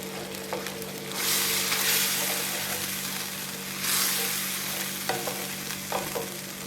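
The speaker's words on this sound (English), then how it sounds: "We're just going to let this cook for a while we stir it constantly" A spoon stirs a creamy Dijonnaise mustard sauce with butter and nutmeg in a pan, giving two long scraping swishes and a few light clinks over a constant soft sizzle, with no talking.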